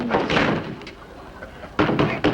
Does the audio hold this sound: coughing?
no